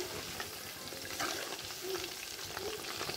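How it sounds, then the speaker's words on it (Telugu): Popcorn-style chicken pieces frying crisp in hot oil, a steady close sizzle with small crackling pops throughout, fairly quiet and uninterrupted. "రెండు వైపులా చక్కగా వేగిపోయింది, క్రిస్పీగా వచ్చేసింది"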